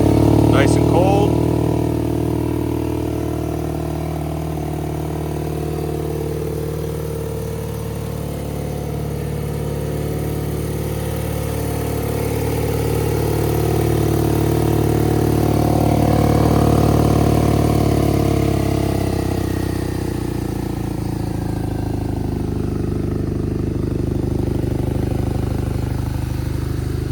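A modified 2021 BMW R nineT Scrambler motorcycle idles steadily after a cold start, its low engine drone holding close and constant while someone talks over it.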